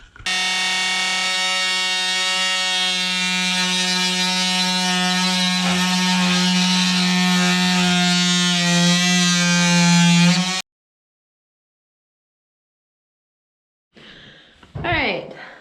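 A dado blade on a saw cuts down maple boards, a loud steady whining drone with strong harmonics holding for about ten seconds, then cutting off abruptly into silence before a short burst of noise near the end.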